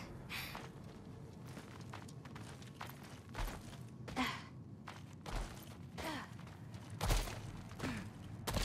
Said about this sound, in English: I think I can hear something breathing near the back of the cellar.